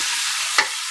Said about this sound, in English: The first one is fry the chicken